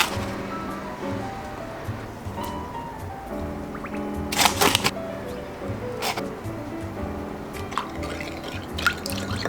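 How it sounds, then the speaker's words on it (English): A spoon is rinsed under a running kitchen tap, with light drips and trickling water that swell into a brief louder splash midway before settling again. "So we're gonna give that spoon a rinse."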